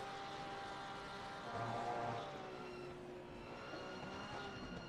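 Car engine in a racing video game time trial, a steady mid-level drone with shifting pitch as revs rise and fall, briefly surging louder partway through.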